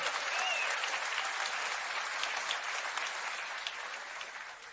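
Sustained applause from a sizable crowd, even and bright, gradually fading toward the end.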